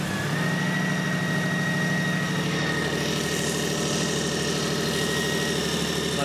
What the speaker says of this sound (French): a un léger bruit ici dans le moteur et je suspecte un injecteur qui clicote